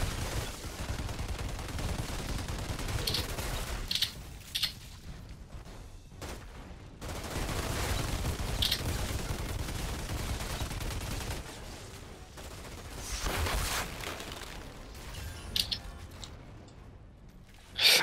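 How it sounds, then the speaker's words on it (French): Automatic turret gunfire in the Outriders demo on PS5, a dense sustained volley of rapid shots with sharp bursts, loud and continuous through most of the stretch with brief lulls. "j'ai trop mal jeté ma tourelle. Elle va tirer dans le mur."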